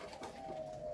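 A dove, of the Cu Pháp or Thái đen breed, gives a soft, steady coo that holds one low tone for about a second, sounding fairly close with no voices around it.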